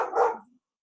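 A pet dog lets out a single short bark indoors that fades quickly into silence.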